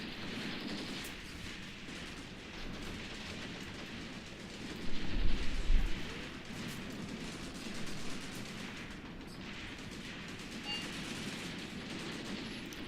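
Battle in the strategy video game Graviteam Tactics, with dense, crackling gunfire and distant explosions over a constant rain-like wash, a heavier low boom bursting in the middle.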